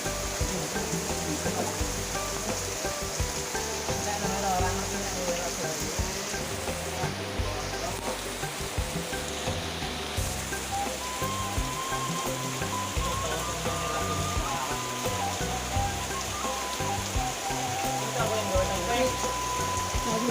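Rain pours steadily during a fishing trip, a dense continuous hiss of drops on water and surroundings lasting the whole stretch, with occasional faint voices mixed beneath.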